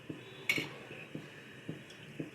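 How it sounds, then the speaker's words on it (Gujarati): A spoon sets potato vada batter into a dish, giving light, evenly spaced metallic taps with one brighter clink near the start, quiet and close in a home kitchen. "ચમચીની મદદથી આવી રીતે મૂકશું."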